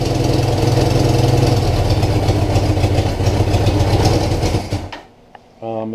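A 1983 Suzuki GS850L motorcycle engine runs cold on choke, a loud steady idle with rapid firing pulses for about five seconds before it cuts out, followed by a brief restart sputter.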